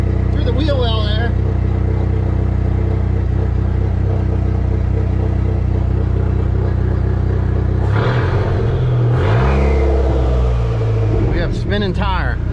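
Engine of a vehicle under transmission testing on a 4th-gear transmission, a steady mid-pitched drone that swells into revving near the end as the wheels spin, with a person talking over it.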